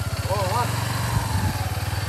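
A running motorcycle engine gives a steady low, throbbing drone close by, and a person talks over it throughout.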